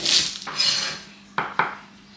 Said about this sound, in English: So all we're going to do is chop the onion.